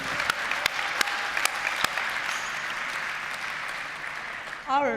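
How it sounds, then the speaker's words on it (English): Audience at an awards gala breaks into a steady round of applause, dense clapping with a few sharp individual claps, fading slightly before a voice begins at the very end. "I think that's worth an extra round of applause"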